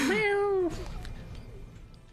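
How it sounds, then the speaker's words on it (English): A cat gives a single drawn-out, wavering meow up close, followed by quiet background noise. "I'm sure you guys can hear my cat in the background"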